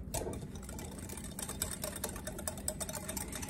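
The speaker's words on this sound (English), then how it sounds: "I want to use the whisk." A whisk stirs a meatloaf mixture with onion powder in a bowl, giving a steady, continuous scraping and sloshing churn with dense rapid ticks throughout, fairly quiet and close.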